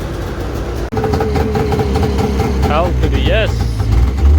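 A snowmobile engine, just running again after a repair in a shed, idles with a steady low rumble beneath continuous talking.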